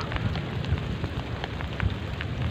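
Rain falls steadily on a rural field during eel fishing, a continuous close hiss of drops with a few heavier splashes and no talk.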